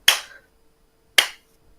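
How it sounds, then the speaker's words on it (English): Two sharp, loud hand claps spaced about a second apart, each ringing briefly before silence, in a slow deliberate rhythm at a tabletop role-playing game session. "Slow clap."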